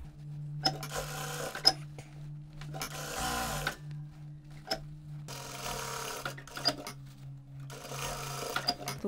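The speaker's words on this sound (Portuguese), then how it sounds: "Vou começar costurando um pouquinho aqui afastada da pence para poder ter uma abertura do retrocesso e vou costurar em todo o contorno." A sewing machine stitches around the contour of a fabric mask in three bursts of rapid, close mechanical whirring, separated by quiet pauses with faint clicks and ticks.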